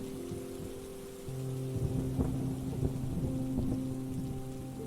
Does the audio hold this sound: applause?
no